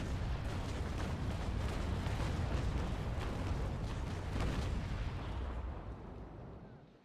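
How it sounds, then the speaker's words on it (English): A broadside of long naval cannons (32-, 24- and 9-pounders) fires in the sailing-ship game Naval Action, a dense, continuous roll of booming shots and rumbling blasts that fades out toward the end. "Reloaded my entire broadside of long cannons, 32 pounds, 24 pounds, and 9 pounds."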